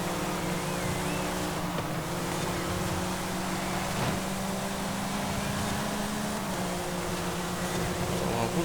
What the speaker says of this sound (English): I love the sound of these engines in these Porsches.